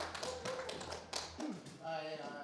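An audience in a barn claps for a performer named Betty, a scattered patter of hands heard under someone speaking over it.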